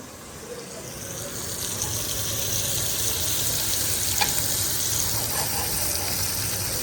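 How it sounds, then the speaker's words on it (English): Mushrooms and sausage sautéing in a stainless steel triple-clad pan, a loud, steady hiss that builds and holds, with a few faint utensil ticks, no talking. "I'm gonna saute the mushrooms."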